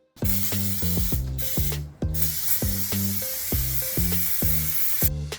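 Loud hissing bursts of spray paint on Jeep Wrangler body armor, close up, overlapping a steady rhythmic tune playing in the background.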